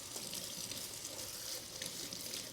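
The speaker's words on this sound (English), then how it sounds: "like when we rinse this mustard off" Mustard greens rinsed under a running tap, a steady hissing water flow with light splashes, faint and unbroken.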